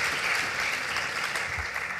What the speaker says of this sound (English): A big applause for all our panelists here.